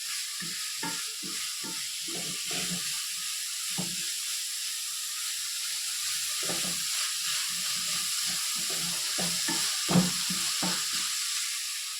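Leafy greens (thagara leaves) fry and crackle in a pan, a steady hiss broken by bursts of popping and sputtering throughout, close up with no talking.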